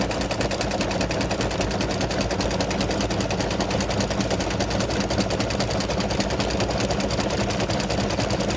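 An embroidery machine satin-stitches the inside of a free-standing lace heart, a loud, rapid, evenly pulsing mechanical chatter that runs without pause throughout.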